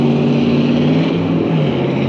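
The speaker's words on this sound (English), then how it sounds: "Boy, that truck was loud." A loud truck engine roars close by on a rural trail in Ohio, a steady drone with a low tonal hum throughout the short stretch.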